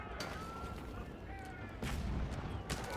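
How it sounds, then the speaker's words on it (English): Cannon emplacements firing in a strategy video game battle: several booming blasts and crackling volleys over a dense wash of battle noise, with a heavier burst near the middle. "Cannon emplacements, at least going to blast away at them"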